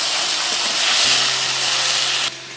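Water is poured onto ginger and cumin spice paste frying in a pan, and it bursts into a loud, close steaming hiss that cuts down abruptly near the end.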